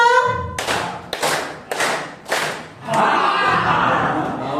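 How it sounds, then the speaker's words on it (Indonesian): A group claps hands together in an ice-breaking game at a training session, five sharp collective bursts in rhythm, the last one swelling into a longer round of applause and crowd noise. "Tepuk 5."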